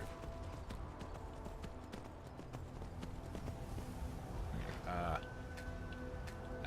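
Horse hooves clip-clopping during riding in the video game Skyrim, a faint, steady run of hoofbeats with a brief clatter partway through.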